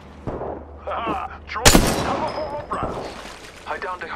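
Gunfire in the Apex Legends video game: one sharp loud shot cracks out mid-clip amid bursts of in-game voice callouts and metallic clinks.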